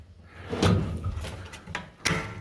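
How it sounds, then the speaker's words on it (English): Stiff metal drawers on a heavy-duty welding cabinet are opened, giving a few scraping slides and thuds close by, with a sharper knock near the end and no talking. "They are kind of stiff opening up."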